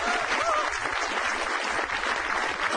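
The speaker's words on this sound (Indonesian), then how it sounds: "tepuk tangan dulu dong" Audience applause fills a stand-up comedy show, a steady, dense clapping that stays loud and even throughout, with faint crowd murmur underneath.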